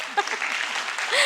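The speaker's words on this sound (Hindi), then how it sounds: "एक बार ताली बजा दीजिए" An audience at a poetry gathering breaks into steady clapping, a dense wash of applause with a few faint voices mixed in.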